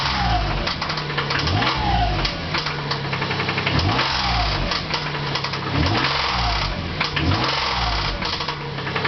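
A dying car engine with almost no oil pressure in the crank revs up and falls back about four times in a rough, knocking rhythm, loud and close, with no talking.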